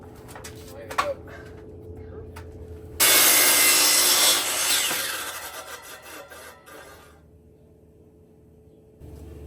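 A handsaw cuts through wood outdoors in the rain in a burst of fast, rough rasping strokes that fades out, with a few faint knocks beforehand and a low steady hum underneath.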